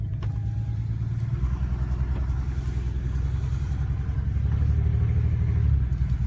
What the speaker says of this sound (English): Sounds for sure like a misfire.